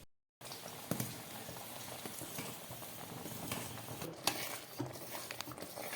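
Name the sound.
stirring ada pradhaman with melted jaggery in pan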